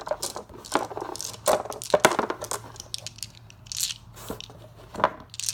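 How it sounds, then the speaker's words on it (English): Dice clatter onto a cardboard Axis & Allies board game box in a few sharp, close drops, with quiet room noise between them. "Oops, keep dropping dice on the box."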